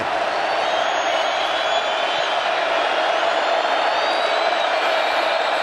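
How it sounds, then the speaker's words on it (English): Nebraska home stadium crowd at a college football game roars on third down, a loud, steady wall of cheering and whooping that holds at full volume throughout. "Nebraska, this crowd is trying to will them to get it done."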